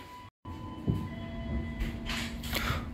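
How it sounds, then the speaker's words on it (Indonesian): The Kutojaya Selatan passenger train departs Kutoarjo station with a steady low rumble and rolling clatter of wheels on track, heard close from inside, with a short dropout near the start and rising rattles later. "kereta api Kuto Jaya Selatan diberangkatkan dari stasiun Kutoarjo"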